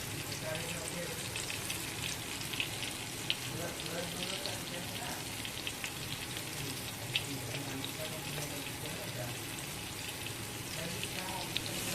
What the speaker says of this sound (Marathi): इथे मस्त फिश फ्राय होत आहे आणि खिचडी